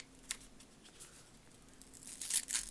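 Paper wrapper of a football trading card pack being torn open by hand, faint short rips and crinkles that grow into a louder, closer tearing burst near the end, with no voices.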